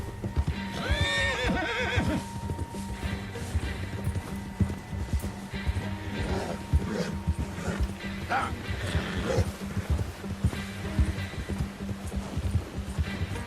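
A horse whinnies with a rising, shrill call in the video game Red Dead Redemption 2, followed by steady hoofbeats clopping along under scattered other sounds, fairly close.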